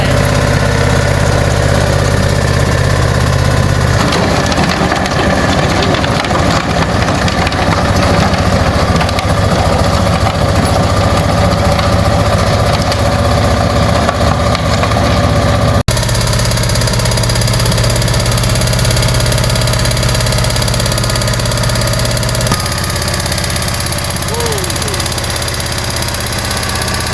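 Diesel hand rotavator engine on a Zakynthos raisin farm runs steadily, loud and close, with a continuous mid-pitched chugging drone throughout and a brief change in tone partway through.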